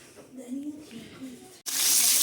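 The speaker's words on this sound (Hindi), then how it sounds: "तो अभी हमारा तड़का लग रहा है।" A voice talks briefly, then a sudden loud sizzle bursts out as spices, onion and fenugreek hit hot oil for tempering, hissing steadily afterward.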